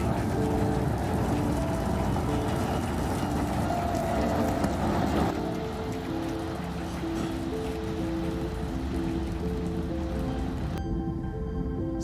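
SpaceX Starship rocket at liftoff, a broad continuous engine roar that rumbles steadily throughout without letting up, sounding distant and dense, with faint tonal layers mixed underneath.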